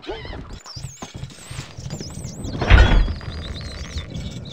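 Horse hooves clip-clop and gallop amid battle noise in the medieval strategy game Stronghold Crusader, with a louder crashing impact midway and no speech.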